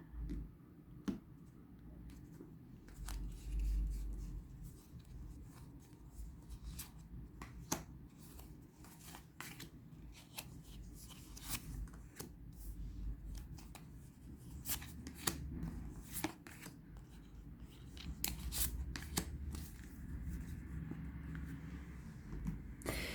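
Tarot cards shuffled and laid out for a pyramid spread make quiet, close papery riffles, flicks and soft slaps at irregular intervals over a faint background, with no talking.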